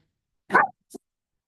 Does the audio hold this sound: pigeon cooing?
no